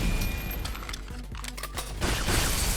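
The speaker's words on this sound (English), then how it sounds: "We can take them all out with pistols." Pistol gunfire in the video game Synthetik 2: a dense, steady clatter of rapid shots and impacts layered over constant game noise, with no pauses across the stretch.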